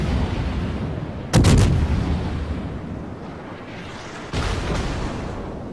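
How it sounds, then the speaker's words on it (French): Naval gunfire in World of Warships, a sharp booming salvo at about 1.3 seconds and a second, softer blast near 4.3 seconds over a steady low rumble of battle ambience. "Je sais que je vois que le Tashkent me tire dessus."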